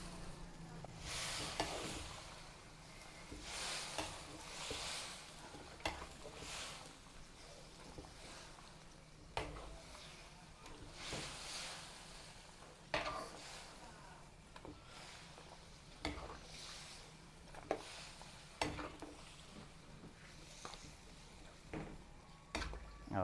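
Food stirred in a cooking pan at a Filipino pre-wedding meal, with soft sizzling and scattered scraping and clanking of a utensil against the pan, interrupted by people talking.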